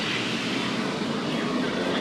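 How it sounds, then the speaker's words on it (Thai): An electric train runs fast past Pathumwan junction in Bangkok, a steady, loud, broadband rumble that holds without a break for the whole stretch, with no voices over it. "รถไฟฟ้าก็วิ่งเร็วมากเลยชั้นนี้นะครับ"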